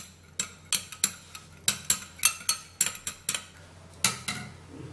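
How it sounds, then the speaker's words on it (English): A utensil clinks against a bowl while egg yolk is stirred, about a dozen sharp taps in an uneven rhythm, close and fairly quiet, with no talking. "what you're going to do is to make sure that the yolk is out and then you stir it"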